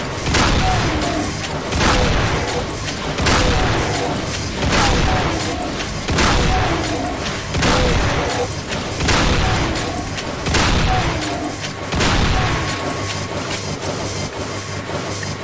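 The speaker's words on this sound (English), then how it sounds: "The rocket launcher." Rocket launcher explosions in the classic video game Doom, booming blasts repeating at a steady rhythm about one every second or two, loud and close, with no talk.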